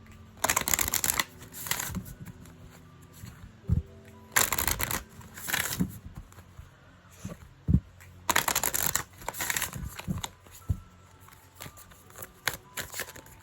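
A deck of cards riffle-shuffled over and over in a quiet room, with bursts of papery flutter separated by short pauses, taps and softer handling sounds.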